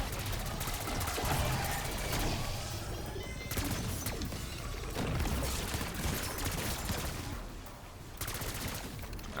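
Rapid, dense gunfire from an AS Val rifle in Black Ops 6 Zombies, a continuous loud automatic stream with crashes and game effects layered throughout, no speech.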